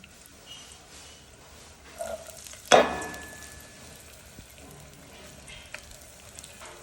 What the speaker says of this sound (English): I'm going to be stir frying the peppers and the onions for our goat meat.